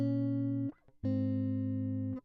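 Two plain, sustained electric guitar notes, dry and steady, each held about a second and cut off sharply, with a brief pause between.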